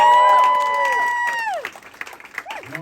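An audience at the DC Improv comedy club claps and cheers, with whoops and voices at first, then settling into scattered applause. The sound is moderately loud and fairly close.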